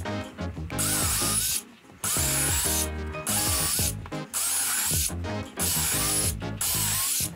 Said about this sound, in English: Pre-drill all of these with the 1/8 inch.